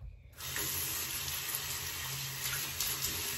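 Water pours steadily from a bathroom sink tap after it is turned on, a close, continuous hissing gush that stays even for a few seconds with no talking over it.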